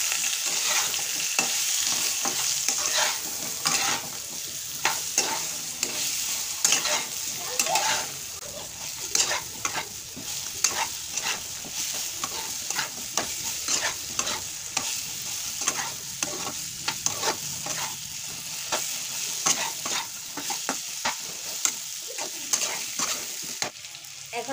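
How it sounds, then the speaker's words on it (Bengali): Guava pickle being stirred in a pan with salt and turmeric: a steady sizzle runs throughout, broken by frequent scraping and clattering stirs at an irregular, busy rhythm, close and moderately loud. "হলুদ দিয়ে দিলাম, ভালো করে নেড়ে চেড়ে নেব।"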